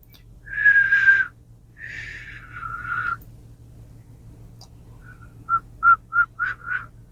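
Breathy, wavering whistle attempts: two longer airy tones, then a pause and a quick series of five short, uneven squeaky toots, close and fairly quiet.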